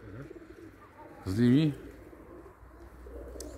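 Budapest pigeons in a loft give one clear, fairly loud coo in the middle, with softer cooing and rustling around it while someone speaks briefly.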